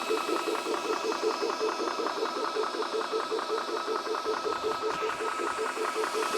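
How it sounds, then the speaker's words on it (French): A VEVOR PCP high-pressure air compressor running: a steady, loud pulsing mechanical hum with rapid regular beats and a hissing edge, continuous throughout, with a brief disturbance near the end. "pour lancer la charge, c'est facile, on appuie sur compresseur"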